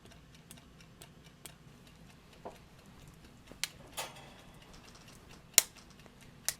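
A clock ticks in a quiet room, with sparse, faint, slightly uneven ticks and a few sharper clicks standing out over a low background hum.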